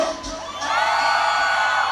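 Crowd at a live sound-system dance show in San Andrés Calpan shouting and whooping together, a loud sustained roar that swells after a brief quieter start and holds steady.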